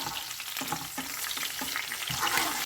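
Whole red chillies, bay leaf, chilli flakes, garam masala, cumin and black pepper sizzle in hot oil for a kadhi pakora tadka, a loud continuous frying hiss broken by rhythmic stirring scrapes, close up with no talking.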